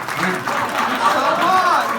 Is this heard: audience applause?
yes